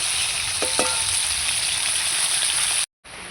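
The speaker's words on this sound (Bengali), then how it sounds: "এগুলো ভাজা হতে থাক আবার" Fish frying in a pan gives a loud, steady close-up sizzle that holds throughout, with a brief drop-out just before the end.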